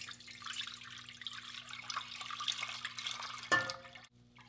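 Milk poured into a measuring jug, a continuous close liquid stream with a gurgle that ends in a short clink near the end.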